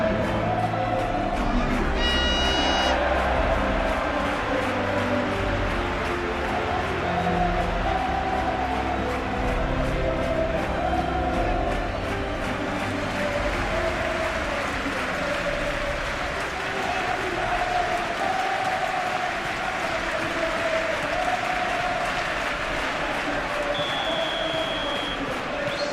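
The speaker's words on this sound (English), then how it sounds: "The crowd hugely expectant." Dense stadium crowd in an eFootball PES match roars and applauds steadily throughout, a continuous broad wash of cheering with a brief whistle-like tone near the start and a high tone near the end.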